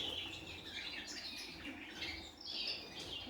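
Many small male cage birds in a bird room chirp and twitter continuously in a busy, bright chorus, fairly faint and steady throughout.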